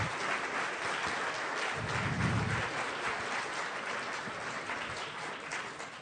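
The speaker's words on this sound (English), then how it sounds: "Anybody in the room can just stand up so we can give you a round of applause." Audience applause fills a keynote hall, a steady broad wash of clapping that holds for the whole stretch and swells slightly in the middle.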